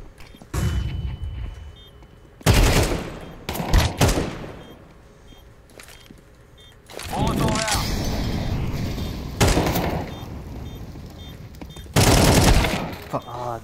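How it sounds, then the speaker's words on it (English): The new bomb explosion and other blasts in Counter-Strike 2 come as several loud, heavy bursts and booms between quieter gaps, with players talking over them. "Change the bomb sound."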